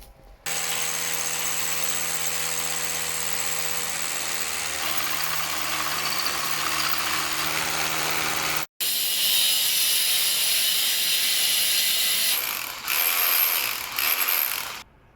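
A power tool cuts channels and drills into a floor, running loud and continuous with a harsh mechanical whine, briefly stopping then restarting with a rougher grinding tone that fluctuates toward the end.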